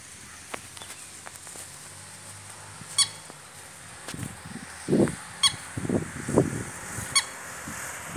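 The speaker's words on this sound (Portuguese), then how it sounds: "Ó, nossos passarinhos aqui, ó, os patinhos." Birds honking at a lagoon in Três Lagoas, MS, a series of loud nasal honks clustered in the second half over quiet outdoor ambience with faint footsteps.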